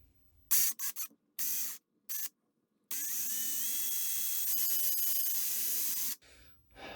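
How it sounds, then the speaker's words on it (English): A small drill bores into a wooden turtle fishing lure, starting with several short whirring bursts and then running steadily for about three seconds before stopping, close and fairly quiet. "I'll drill it straight into the"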